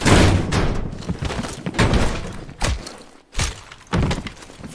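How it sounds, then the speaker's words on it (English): A door swinging open in Call of Duty Black Ops Cold War, a series of heavy thuds and knocks with a brief pause midway, close and loud over a dense in-game background. "Bell. Open the door."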